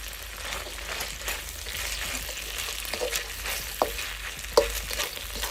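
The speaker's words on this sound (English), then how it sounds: "I'm going to make a quick and easy stir fry." Bean sprouts, onions and carrots are stir-fried in a hot pan, giving a steady close sizzle broken by occasional sharp scrapes and clacks from the utensil, with no voices.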